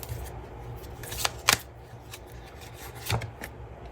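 Tarot cards being shuffled and drawn at close range, soft papery rubbing broken by a few crisp snaps and flicks as cards are cut and pulled from the deck, quiet and without talking.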